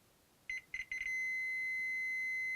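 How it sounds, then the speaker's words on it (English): A multimeter's continuity beeper sounds while its probes test a fuse in a rare iQue Game Boy Advance that won't turn on: three short electronic beeps, then a steady held tone, close and clear, with no talk. "It should beep if there's continuity through the fuse"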